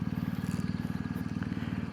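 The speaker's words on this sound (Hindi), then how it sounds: "मैं डबल स्टैंड पे लगा के दिखाता हूँ आप लोग को" A BMW R1250 GSA motorcycle idles close by with a steady, low, pulsing engine thrum, with no distinct clunk of the double stand standing out.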